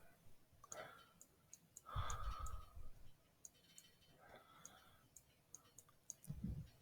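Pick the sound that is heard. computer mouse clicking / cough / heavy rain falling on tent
computer mouse clicking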